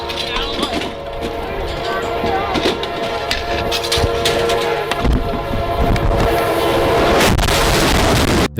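A locomotive approaches during a film shoot on railroad tracks, its horn blaring in long sustained blasts over a rising rumble of the train, with clatter and voices mixed in near the end.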